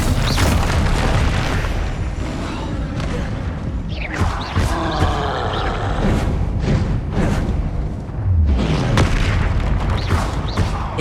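Confringo and Incendio spell explosions in Hogwarts Legacy go off as repeated loud booms and fiery bursts, one after another, with no gaps of quiet between them.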